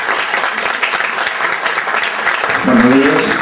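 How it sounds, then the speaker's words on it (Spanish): Audience applause at an academic linguistics week session, continuous clapping from a seated crowd that swells slightly toward the end as a voice begins to speak over it. "Aplausos para él."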